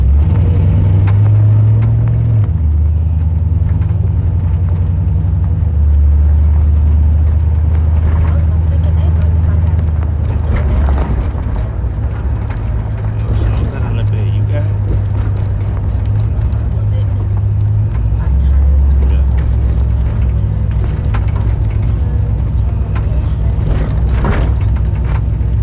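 A car engine driven by a nine-year-old during a driving lesson, its low rumble rising and falling as the engine is revved, heard from inside the cabin with people talking throughout.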